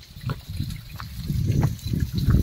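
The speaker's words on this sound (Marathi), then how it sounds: "इथं तुम्ही पाहू शकता वरून आलेलं पाणी." Water running down from a cliff over mossy rocks along the Darya Ghat route, a close, uneven splashing and gurgling flow that swells and dips.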